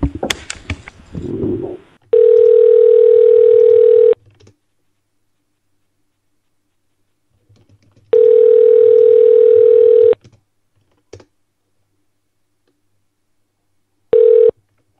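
A telephone call tone sounds while a number is being added to a call: three steady beeps, the first two about two seconds each and the last short, separated by silence and faint clicks.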